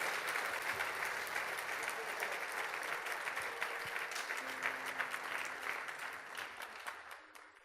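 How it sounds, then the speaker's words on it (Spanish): A church congregation claps loudly and continuously in a dense, reverberant wave that fades near the end, with voices and faint music underneath. "Dele un fuerte aplauso al Señor de gloria."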